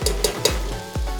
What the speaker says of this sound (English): And now we're gonna add our Arborio rice.